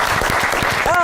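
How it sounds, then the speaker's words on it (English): Studio audience clapping and cheering on a live Kenyan TV talk show about surviving cancer, a dense, loud wash of applause mixed with voices, ending in a brief whistle-like tone. "can we just join in just clapping and encouraging the people before?"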